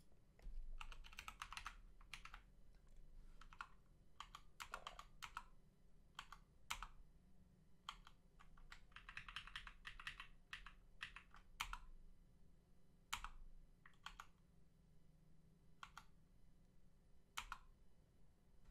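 Computer keyboard typing in irregular bursts of light, close clicking keystrokes over a faint background hum, with no talking.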